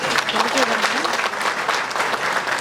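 Audience applause fills a hall, a dense steady wash of clapping throughout with a voice faintly audible beneath it.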